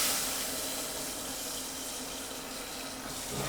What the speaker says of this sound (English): because I'm going to use some cold water.